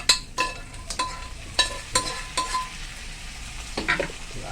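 Duck pieces sautéing in a pan for adobo, a soft sizzle underneath a series of sharp metal utensil scrapes and clanks against the pan at a loose stirring rhythm, close up with no voices.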